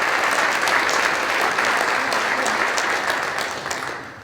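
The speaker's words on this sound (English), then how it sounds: "So if we could give them another round of applause." Attendees at a neighborhood grant program event give a round of applause, a sustained wash of clapping from a sizable audience that gradually tapers off.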